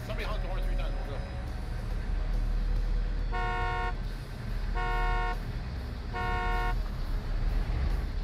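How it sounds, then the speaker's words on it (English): Car horn honking three times in a row, evenly spaced, loud and close at a Race Wars drag racing event, over steady engine and crowd noise. "somebody honk the horn 3 times and we'll go"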